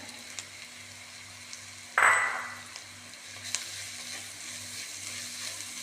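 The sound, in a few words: grated coconut being stirred and roasted in a pan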